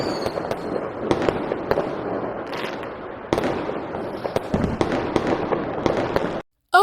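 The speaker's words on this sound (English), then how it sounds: "the fireworks show is starting." A Fourth of July fireworks show crackles and bangs continuously, with sharp pops and booming bursts in a dense irregular barrage, loud and fairly close, no talking.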